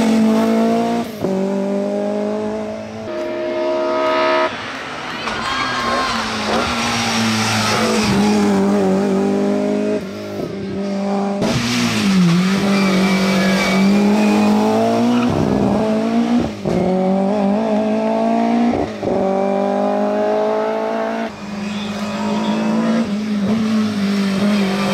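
A BMW M3 E30 Group 3 historic race car storms the 2023 Jaizkibel hill climb, its engine screaming close and loud as it revs through gear changes, with tire squeal on the bends and brief throttle lifts.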